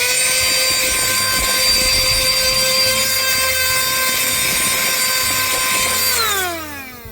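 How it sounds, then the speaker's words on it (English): A small handheld vacuum cleaner runs steadily while cleaning the interior of a BMW X3, giving a loud, close, high-pitched motor whine that holds constant and then falls away as it switches off near the end. "So all this stuff is actually vacuuming up very easily. I have this little handheld guy"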